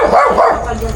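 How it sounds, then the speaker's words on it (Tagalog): A noisy dog barks close by in repeated yelping bursts, loud and continuous through the moment with no talk over it. "Maingay yung aso natin"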